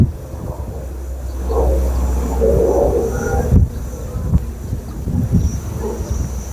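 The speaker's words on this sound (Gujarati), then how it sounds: "વિમાન પણ જઈ રહ્યું છે." An airplane flies overhead above a flowing river near Sukhpar, Bhuj in Kutch, giving a low, distant, droning rumble that swells slightly and then holds, with a few soft bumps and the wash of water beneath.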